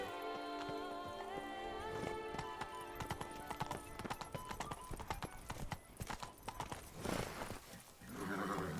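Horse hooves clip-clopping in a steady galloping rhythm in Witcher 3, close and prominent, with a brief whinny and other game sounds layered in toward the end.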